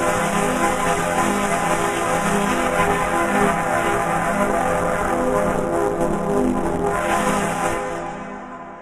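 Road traffic noise played through a preset reverb effect forms a dense, washy roar that holds steady, then trails off into a fading reverb tail at the end.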